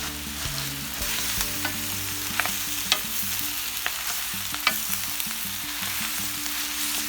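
Very dry baby spinach sizzles and fries steadily in a hot, heavy-bottomed 12-inch cast-iron skillet alongside asparagus, with occasional sharp clicks and scrapes of stirring over the continuous hiss.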